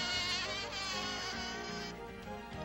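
Hundreds of insects buzz around brightly colored flowers on a rocky highland slope, a thin, continuous drone that comes through faintly beneath a sustained musical bed.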